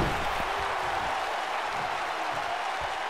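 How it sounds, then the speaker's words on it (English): A wrestling crowd in an Oklahoma City arena roars and cheers steadily, a dense wash of noise with faint commentary underneath. "Isaiah Evans firing up the crowd here in Oklahoma City."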